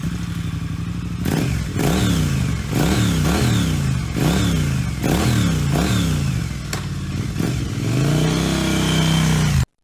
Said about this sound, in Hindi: चौथी किक पर बाइक जोर से स्टार्ट हो गई।